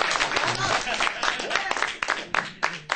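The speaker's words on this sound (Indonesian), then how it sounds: "tolong kasih tepuk tangan buat RRI yang sudah" An audience claps at a singing coaching clinic, steady crowd applause with voices talking and calling out through it.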